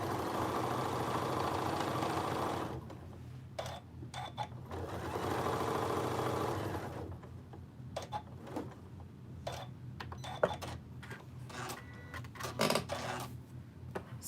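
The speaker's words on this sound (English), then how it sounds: "I'm gonna end up sewing my sweatshirt ties in there, huh?" A sewing machine stitches a quilt in two steady, close whirring runs, then goes quiet apart from scattered clicks and light handling noises.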